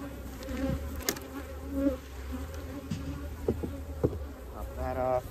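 Honey bees buzzing around an open queenless hive: a steady, close insect drone with individual bees passing by, plus a few light knocks and handling sounds.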